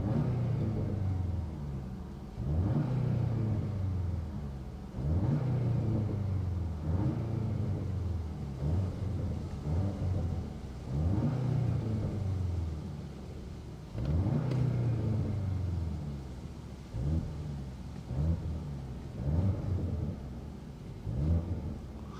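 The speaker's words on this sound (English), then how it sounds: "I really love the exhaust note on the S3" A 2025 Audi S3 facelift's exhaust note as the engine is revved repeatedly, a series of deep throaty blips roughly every two to three seconds, moderately close with no talking.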